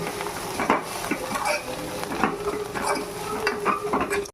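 Gongura pachadi cooking down in oil in a pan, with a soft continuous sizzle and repeated scraping, stirring strokes of a spoon against the pan, close and moderately loud with no talk.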